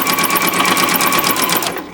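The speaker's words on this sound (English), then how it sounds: "So I'm going to go ahead and sew the other side." A sewing machine topstitching along a fabric strap for a mini tote bag, running loud and close in a steady rapid whir before slowing to a stop.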